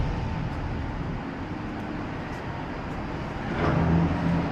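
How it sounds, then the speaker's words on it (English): Steady broadband rumble of a busy working cruise port heard from a ship's balcony, with distant machinery and traffic hum throughout and a brief swell of louder activity near the end. "It's a working port."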